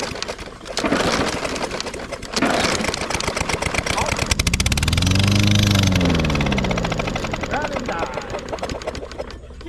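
A worn-muffler Briggs & Stratton engine on a John Deere mower runs with a ragged, rapid mechanical chatter, rising into a louder surging stretch midway, close to the microphone.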